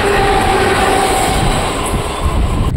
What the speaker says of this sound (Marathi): आता ही ट्रेन आलेली आहे ती दादर CSTला जाते, CSMT